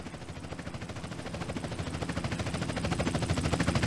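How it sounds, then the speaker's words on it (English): A helicopter in the video game GTA San Andreas makes rapid rhythmic rotor chopping, growing steadily louder as it draws closer, with no voices over it. "Chopper inbound!"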